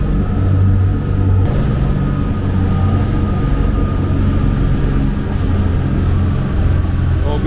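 Boat engines at full throttle make a loud, steady low rumble and drone at around 20 knots, heavy and continuous with a constant whoosh of wind and water above it.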